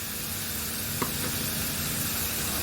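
Chopped ginger sizzles with onions frying in a pan for a chicken curry, a steady close hiss with one brief clink of a spoon midway.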